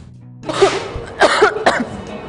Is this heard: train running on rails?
no